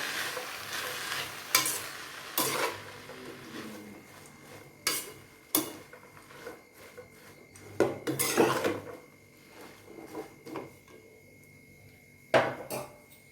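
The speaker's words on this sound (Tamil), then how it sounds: "இப்போ இந்த கீரையை நல்லா பரட்டி விட்டுக்கணும்." Greens (keerai) being stir-fried in a pan for a Tamil keerai poriyal, with sharp spatula scrapes and clanks against the pan at irregular intervals over a soft sizzle, close and fairly loud, no talking.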